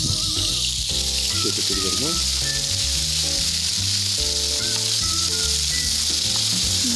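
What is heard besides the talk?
food sizzling while frying in pan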